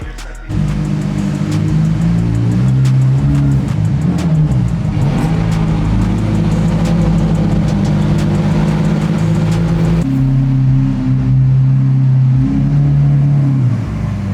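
Lamborghini SVJ supercars idle and rev loudly at close range, a deep, throbbing engine drone that holds steady with a brief dip and shift partway through.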